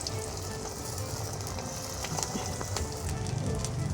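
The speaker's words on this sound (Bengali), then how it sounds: "এবার আমি চুলার আঁচটা কমিয়ে একে একে এগুলোকে ছেড়ে দিচ্ছি তেলের উপর" Potato tikki patties sizzling in hot oil on a low flame, a steady dense frying hiss with small crackles throughout and no talking.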